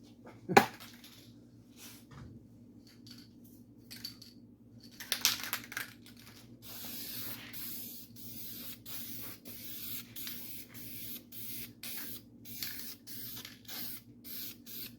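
Epoxy primer sprayed in a light dusting coat onto a 1951 Chevy cab body, heard as a string of short hissing bursts that grow steady and repeat through the second half, with a sharp click near the start.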